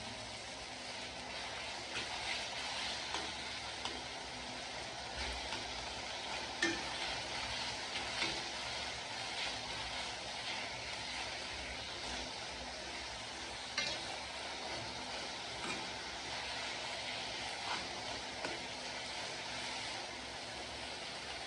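Tomato, garlic and ginger frying in a pan for pepper chicken, a steady hissing sizzle that runs throughout, broken by occasional light stirring knocks.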